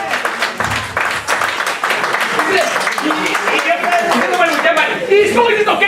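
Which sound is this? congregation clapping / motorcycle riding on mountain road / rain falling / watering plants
congregation clapping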